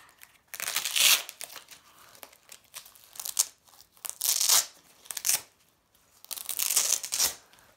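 Crinkly plastic packaging around a set of four Fukenza protectors being opened, with close, loud bursts of crinkling and tearing arriving in three separate rounds, separated by brief pauses.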